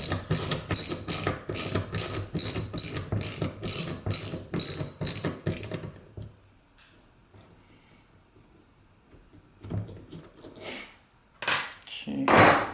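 A ratchet wrench clicks in a fast, steady rhythm as a screw is backed out of a Suncore car air compressor during a teardown, loud and near, then stops and gives way to quieter handling and clatter of parts.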